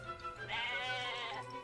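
A goat in the Atelier Ryza video game lets out a single wavering bleat lasting about a second, clear and close, with no talk.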